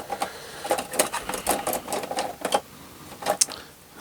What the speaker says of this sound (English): Maybe I could do with a better scissors for this job.